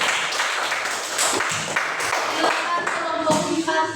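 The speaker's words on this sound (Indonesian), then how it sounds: "Tepuk tangan untuk kelompok 3." A classroom of students claps for a presenting group, a short burst of brisk hand clapping from many people, fairly close and loud, with some voices underneath.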